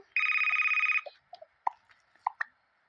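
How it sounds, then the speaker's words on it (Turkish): A short electronic phone message chime rings for under a second, followed by a few faint clicks and taps in an otherwise quiet room. "Alarm değil mesaj sesi."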